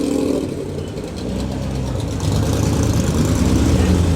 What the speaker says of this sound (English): A very modified V8 Morgan here.